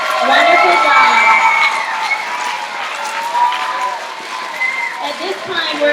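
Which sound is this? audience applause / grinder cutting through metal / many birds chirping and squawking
audience applause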